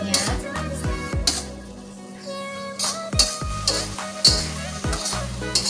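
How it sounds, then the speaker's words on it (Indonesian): Spices for sweet-corn fried fish being stirred in a frying pan, with a steady sizzle broken by repeated sharp scrapes and clinks of a utensil against the pan at an uneven rhythm. "Kita aduk-aduk bumbunya supaya merata ya rasanya."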